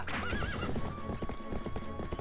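Horse hooves clip-clop at a steady gallop with a clear neigh near the start, from a mount ridden in the video game The Legend of Zelda: Twilight Princess, loud and continuous alongside game music.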